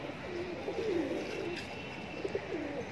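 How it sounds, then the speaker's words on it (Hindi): Pigeons at a high-flyer pigeon sale coo softly in several short, rolling phrases, close but fairly quiet over a faint background hum. "देखिए बंद दुम कबूतर"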